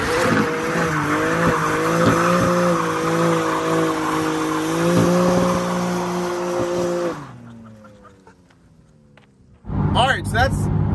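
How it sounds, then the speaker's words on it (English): BMW G80 M3 doing a burnout, its engine holding a loud sustained roar while the tires squeal steadily, then dropping away briefly before a sharp revving return; voices talk over it. "try doing burnouts and again, and donuts, and then finally doing a fat burnout"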